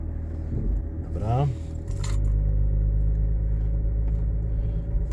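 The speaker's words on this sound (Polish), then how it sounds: "Też ten klekot jest wyczuwalny, ale to jest klekot przyjemny, bo jest to 6 garów i to w rzędzie." Steady low diesel rumble from a Range Rover Vogue 3.0 inline-six with about 471,000 km, heard from inside the cabin, rising and holding after a brief jingle of keys, with a person talking over it.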